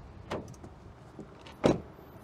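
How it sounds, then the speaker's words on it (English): Two car door sounds on a 2022 Toyota RAV4 Hybrid Limited: a lighter thud first, then a solid, louder slam of the door shutting, heard close up. "decent sound of the closing door."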